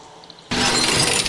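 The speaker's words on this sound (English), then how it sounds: "Oh, I just meant to stain some glass, not break it." Glass shattering in the video game Stray after the cat shoves an object off a ledge, a sudden loud crash that bursts in after a quiet moment and sustains a dense, bright spray of breaking shards.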